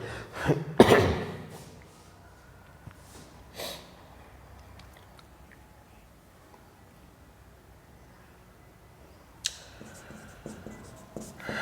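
Pen writing out an explanation during a Hindi physics lesson on total internal reflection, faint scratching strokes after a cough near the start, with sparse tapping and rustling later.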